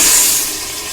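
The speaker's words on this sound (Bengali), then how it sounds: "এই পাস্তাগুলো কিন্তু আমি এই জলের মধ্যে দিয়ে দেবো" Dried pasta tipped into a pot of boiling salted turmeric water gives a loud, brief hissing rush of bubbling water, close and without voices.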